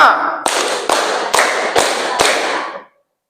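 A school class in a guidance-counseling lesson claps five times in unison, five sharp, evenly spaced claps about half a second apart, ringing in a reverberant room and then stopping.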